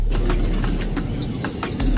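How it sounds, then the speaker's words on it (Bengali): Pigeons bathing in the sun flap their wings in repeated quick bursts, close and loud, with short bird calls between the flaps and no talking. "খুব সুন্দর করে কিন্তু আমার কবুতরগুলা আসলে গোসল করতেছে"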